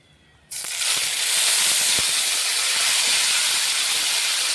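Ground cumin, ginger, chili and tomato paste hits a hot pan with a sudden loud hiss that settles into a strong, steady sizzle close by.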